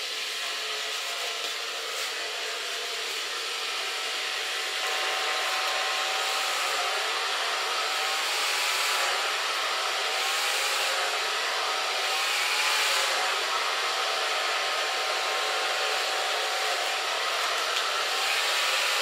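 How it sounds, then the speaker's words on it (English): An ionic blow dryer drying hair whooshes steadily and loudly for the whole stretch, with slight shifts in tone as it moves around. "And this is the ionic blow dryer, so it dries very quick."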